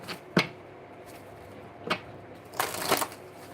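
A deck of oracle cards shuffled by hand at a table, heard as a few separate close riffling bursts with pauses between, the last one longer and louder.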